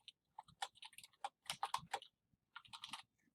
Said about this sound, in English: start typing right in there.